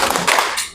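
A classroom group performs the 'tepuk fokus' clapping routine, a quick run of close, sharp hand claps and taps in a short burst with no voices over it.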